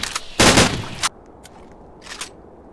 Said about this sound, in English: Close quarters are weapons like this fine shotgun.